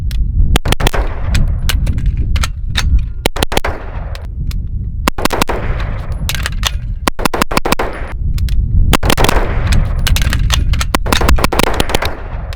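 CZ Scorpion 3 Plus fired in a speed shooting drill, loud close gunshots in rapid strings and clusters over continuous rumbling wind or handling noise, with brief pauses between bursts.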